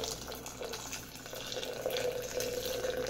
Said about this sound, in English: I'm gonna pour 290 grams of water. And I'm gonna pour it slowly and work it around